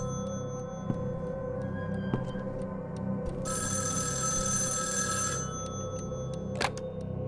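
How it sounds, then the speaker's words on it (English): A telephone rings in the horror video game Evil Inside, with a few clear bell-like rings over a quiet, dark ambient hum. "It's the phone ringing."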